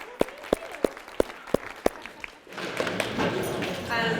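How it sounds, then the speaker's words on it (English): Audience applause in a professional learning session: about seven separate sharp claps or thumps at a steady beat, then a fuller burst of clapping from a group that continues to the end. "Give them a round of applause."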